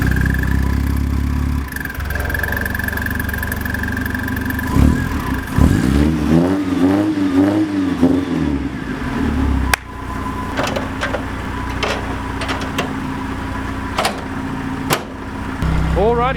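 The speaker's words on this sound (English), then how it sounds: "Ignition is on. Just gotta pull the choke for good measure." A Toyota KE70 Corolla with the choke pulled cranks over, catches and revs up unevenly, then settles into a rough idle broken by a few sharp clicks and knocks, close to the engine.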